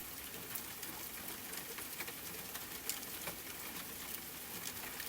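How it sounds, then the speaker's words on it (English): Rain falls in a soft, even patter, faint and continuous with scattered tiny drop ticks and no other sounds. "rain running down the windows in shining threads"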